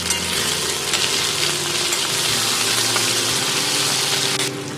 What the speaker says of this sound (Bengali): এইবার আমি দিয়ে দেবো টমেটো কুচি